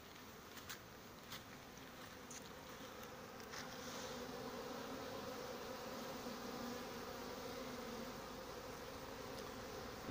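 Carniolan honeybees at an apiary in July make a steady, dense buzzing swarm sound that grows louder partway through and continues alone with no talking.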